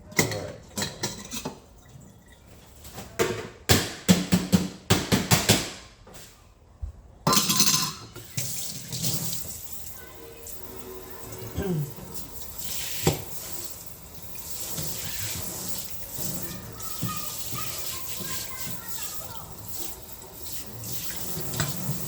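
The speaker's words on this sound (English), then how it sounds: "I always let the water go for however long when I'm rinsing dishes" Tap water runs into a kitchen sink while dishes are rinsed, with a steady close splash broken early on by clinks and knocks of plates, pots and cutlery before settling into a continuous, softer flow.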